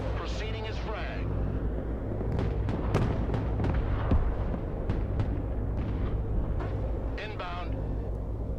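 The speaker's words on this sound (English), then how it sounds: "Just lobbing missiles, dumping them out the back." Missiles launch in the Broken Arrow video game as a cluster of sharp bursts and whooshes over a constant engine-like rumble, with radio-style voices talking throughout.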